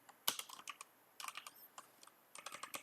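Computer keyboard keys tapped in quick irregular bursts with short pauses between, close and fairly quiet, no voices.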